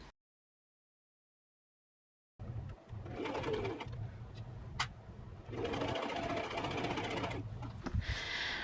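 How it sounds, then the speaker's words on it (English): A sewing machine runs in two steady bursts, stitching the sleeve hem of a gold kaftan top, with a close, even mechanical whir after a silent opening and a brief gap between runs. "I'm gonna just use the machine to do the same thing for the hem for the sleeve"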